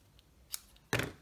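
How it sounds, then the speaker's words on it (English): Scissors trimming the ends of a ribbon bow on a handmade card, two or three quick faint snips with the last one sharper and closer. "so just trim these ends off at an angle."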